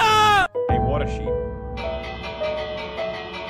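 Sheep bleats from the Minecraft video game, a couple of wavering harmonic calls with game sounds behind them and someone talking and reacting loudly over them.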